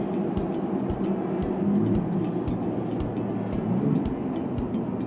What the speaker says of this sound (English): you can hear it as it shifts down. You can hear the in the sport mode.